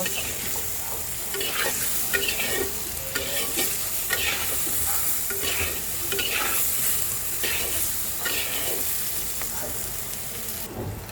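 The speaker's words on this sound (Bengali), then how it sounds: "এইবার সব কিছু একসাথে কয়েক মিনিট একটু ভাজা ভাজা করে নেব" Spices and tengra fish curry ingredients, with potatoes and yardlong beans, fry in a pan under steady repeated stirring, a close continuous sizzle broken by regular scraping strokes of the spoon, with no talking.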